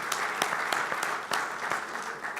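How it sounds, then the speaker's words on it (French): An audience claps warmly at a regional industry gathering, a dense, steady round of applause from many hands that holds at an even level. "On a besoin toujours de les applaudir et je commencerai par le faire."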